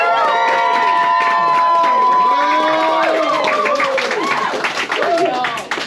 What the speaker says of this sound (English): let's do it by applause.